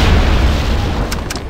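A heavy, booming explosion in the Terminator Genisys Guardian video game as an object is destroyed, loud and close, rumbling low and filling the short moment before fading slightly.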